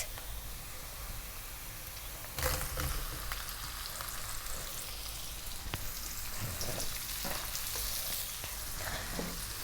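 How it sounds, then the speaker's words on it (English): Sausages fry in a pan with a continuous close sizzle, sprinkled with sharper crackles and pops, and a brief louder surge as the frying intensifies. "now we're gonna put our sausages in, and then we're gonna fry them for 4 minutes"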